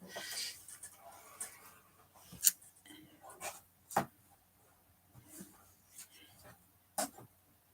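Scissors cut card stock for a holly and ivy Christmas card: a few separate crisp snips and slicing strokes, close and quiet, with soft handling noise between them.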